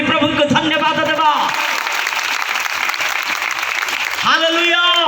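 A church congregation claps together in thanks to the Lord, a loud sustained round of applause, with a voice speaking at the start and again near the end.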